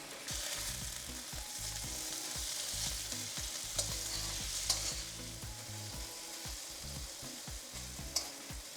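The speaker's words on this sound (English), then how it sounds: "If you're using a carbon steel wok like mine, leave them in for a few seconds until the meat is formed before stirring" Pork sizzles loudly in a hot carbon steel wok, a dense continuous frying hiss with a few sharp pops and occasional stirring scrapes, close and without any voices.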